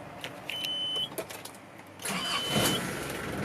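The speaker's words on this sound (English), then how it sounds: "Starts on the first crank, no problem." A starter whirs briefly, then the 1992 Nissan Atlas fire truck's TD27 diesel engine catches on the first crank and rumbles to life, settling into a steady idle close by.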